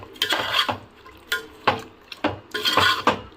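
Chicken with half a cup of yogurt being stirred in a pot for a Bhimavaram-style chicken pulav, with a spoon scraping and clinking against the pot in several short bursts close by.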